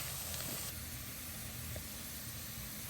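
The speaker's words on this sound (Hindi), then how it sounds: "ये मैंने देसी लहसुन डाला है, आप भी देसी लहसुन का तड़का लगाएं" Steady broadband hiss of garlic frying in hot oil for sarson ka saag, continuous and close, with no voices.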